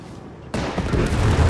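A bundle grenade explodes in Company of Heroes 3: a sudden loud blast after a quieter moment, followed by a sustained rumbling, crackling aftermath with scattered gunfire.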